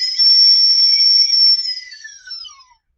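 A recorder plays a single high, piercing whistle imitating a falling bomb, holding steady, then sliding downward in pitch and fading out over a few seconds.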